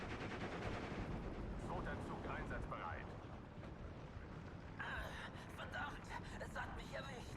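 Machine guns fire in the World War II strategy game Steel Division 2 as bursts of distant gunfire and rattling shots under a steady battle rumble, growing busier toward the end while someone talks over it.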